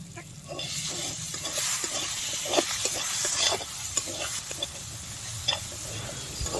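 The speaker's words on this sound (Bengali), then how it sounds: "আমটাকে আমরা কষিয়ে নিচ্ছি, আমের গায়ে থেকে তেল ছাড়ছে" Raw mango frying in oil in a pan for Bengali-style chutney, a steady close sizzle broken by irregular scraping and stirring clatters, with no voices.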